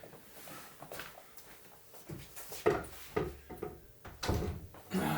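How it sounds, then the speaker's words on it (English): An indoor door is pushed shut, giving a few wooden knocks and thumps, with the loudest thud partway through and softer handling knocks after it, all close by in a quiet room. "Let me close this door."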